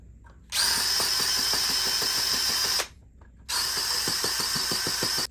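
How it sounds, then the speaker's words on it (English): A power drill bores through drywall during a closet installation, running in two loud sustained bursts separated by a short pause, close up. "Let's get this one drilled out."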